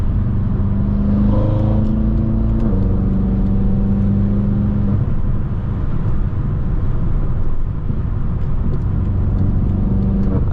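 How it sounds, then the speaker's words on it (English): A BMW M6 engine rumbles steadily and loudly while driving, with a deep, continuous drone that briefly rises in pitch. "this car is loud enough at this point that you can hear it with the windows closed"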